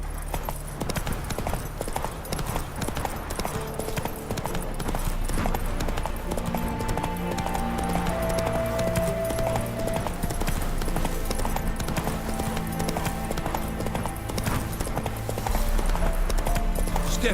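Roach, a horse in The Witcher 3, galloping with rapid rhythmic hoofbeats that stay loud and continuous throughout, backed by game music and ambience.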